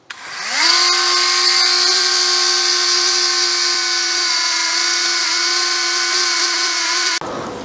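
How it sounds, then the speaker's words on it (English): A Dremel rotary tool spinning a brass brush to clean dirty MX5 engine parts spins up to a steady, high, close whine that holds unchanged for several seconds before cutting off abruptly. "I will just use a brass brush in my Dremel and I will gently"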